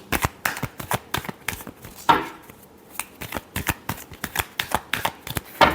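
Tarot cards are shuffled by hand in quick, crisp bursts of riffling and snapping, close and fairly loud, with brief pauses between runs.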